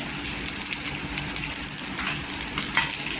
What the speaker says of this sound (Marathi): शेंगदाणे छान असं तेलावर परतून घ्यायचं आणि तेलावर छान असं परतून घ्यायचं